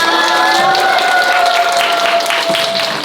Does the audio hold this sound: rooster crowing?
no